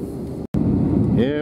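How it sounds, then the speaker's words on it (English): Airliner takeoff roll at Las Vegas, a steady loud rush of engine and wind noise filling the cabin, briefly cutting out, then rising with whining tones as the plane accelerates. "Take off at Vegas."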